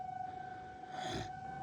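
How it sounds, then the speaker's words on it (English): A tornado siren wails through heavy rain, its steady tone holding across the whole stretch with a brief surge of broadband noise partway through as the downpour and distant rumble swell. "Like, enough to trigger the tornado siren?"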